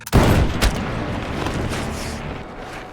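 Sniper rifle shot cracking out loud and close as a sharp blast, followed by a second report and a long rumbling echo that rolls on and slowly fades.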